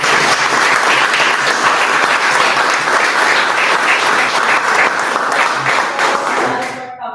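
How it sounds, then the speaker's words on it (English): Loud, dense applause from the audience at a 3D printing and design meetup, sustained for several seconds with some voices mixed in, then cutting off abruptly at the end. "So everyone, give a round of applause."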